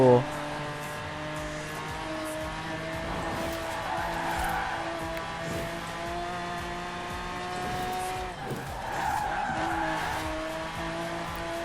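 Lamborghini racing through town in Forza Horizon 4, its engine droning steadily with rising and falling revs and tire skids, loud and continuous throughout, with a voice speaking over the game sound.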